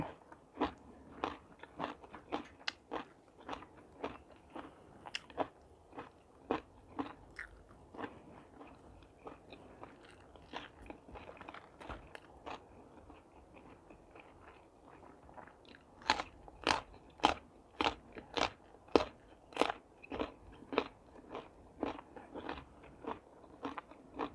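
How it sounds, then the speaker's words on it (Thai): Crunchy food bitten and chewed close to the microphone, giving a long run of sharp crunching bites at a steady rhythm that grow louder and crisper toward the end, with no talk. "อืมกรอบสนั่นเมือง"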